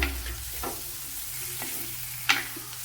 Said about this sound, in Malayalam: സവാളയൊക്കെ നല്ലതുപോലെ വയറ്റി ബ്രൗൺ നിറമാക്കി എടുക്കണം